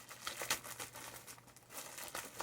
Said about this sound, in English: Let's open the bag, find out what the cover is